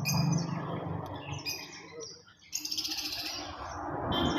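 Lovebirds in a breeding-pair shop gallery chirp and tweet in busy bursts close by, with bright high calls overlapping throughout.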